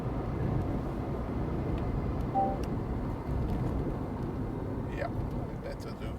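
A VW e-Up electric car rolling downhill from Mummelsee to Sasbach, with a continuous low road and tyre rumble plus wind noise, a driver talking over it, and a few faint clicks near the end.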